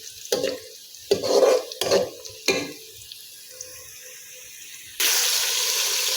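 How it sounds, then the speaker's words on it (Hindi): Chopped onions for matar pulao fry lightly in a pan, with several loud scraping stirs in uneven strokes, then a quiet pause, then a sudden steady sizzle that fills the rest. "तो प्याज मैंने ज़्यादा ब्राउन नहीं करना, बस इनका हल्का सा मैंने कलर चेंज करना है।"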